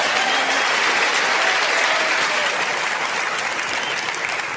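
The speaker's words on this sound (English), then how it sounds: "the applause started earlier" Snooker crowd at the 2023 UK Championship final between Ronnie O'Sullivan and Ding Junhui bursting into sustained applause after a big shot, a dense steady wash of clapping filling the hall throughout.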